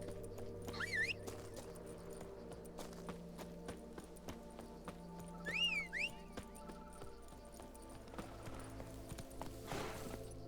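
A horse gallops in the video game The Witcher 3: Blood and Wine, with steady rhythmic hoofbeats running throughout under a quiet musical background, a couple of short whistle-like sweeps and a brief flourish near the end.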